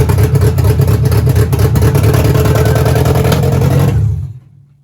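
A Renault Clio 172 engine runs loud and close with a strong low rumble and rough revving for about four seconds, then cuts off abruptly into near silence.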